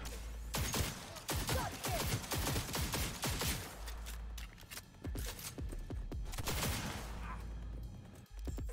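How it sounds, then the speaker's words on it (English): Rapid bursts of gunfire from a Cyberpunk 2077 firefight crackle almost without pause, sharp repeated shots stacking over several seconds with brief gaps, loud and close. "I'm only slinging bullets at you."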